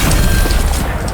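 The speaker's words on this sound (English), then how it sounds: "How about that shotgun, eh?" A shotgun fires in a video game with a loud, booming blast that fills the moment with dense, rumbling impact noise.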